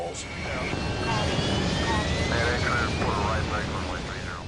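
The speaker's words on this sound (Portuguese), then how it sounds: "A aeronave ficou muito danificada." Damaged military jet in flight after losing its hydraulic systems, a steady roaring engine drone filling the background with faint tonal whines, under overlapping voices.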